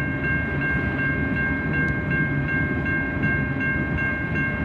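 A train pulls out of a rail yard onto the main line with a constant loud rumble of wheels and engine, steady tonal whine and faint rhythmic rail clicks throughout.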